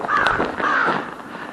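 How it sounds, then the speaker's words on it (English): A crow calling in snowy Maine woods, two loud, harsh caws in quick succession, close and clear against a quiet background with no talking. "Hello, Mr. Crow."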